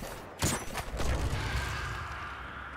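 Enemies blowing up in the sci-fi shooter Destiny 2, a loud burst of explosive blast that rolls into a sustained rumbling decay.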